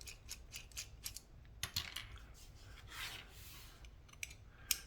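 Small scraping, rubbing and light clicking from cleaning oil off a Twosun TS210 titanium pocket knife with a D2 blade, quiet and close, in irregular short strokes.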